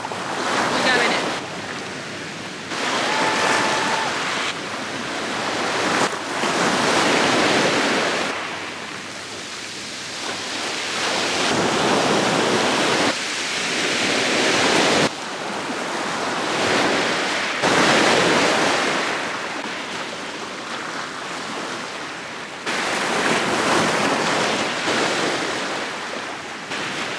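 Sea surf washing onto a beach in Cornwall, a steady roar of breaking waves rising and falling in long swells, with gusts of wind buffeting the microphone throughout.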